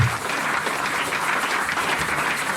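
A church congregation applauds loudly and steadily during a service, a dense wash of clapping hands that continues throughout.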